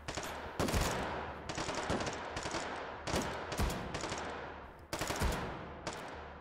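Rapid bursts of automatic gunfire in the VR shooter H3VR, several loud close volleys separated by short pauses, with no talking.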